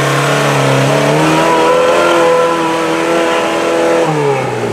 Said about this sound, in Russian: О, машины поехали.